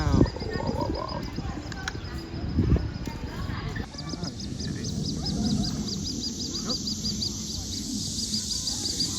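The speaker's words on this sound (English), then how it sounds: "think it's a black swan." A black swan gives a series of short, high honking calls, repeated in a quick pulsing run partway through, with people talking and outdoor noise in the background.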